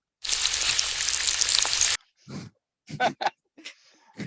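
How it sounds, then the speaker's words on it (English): A loud, hissing sizzle like an egg frying plays for a couple of seconds, then stops abruptly, followed by short bursts of talking. "Can we put the frying egg in?"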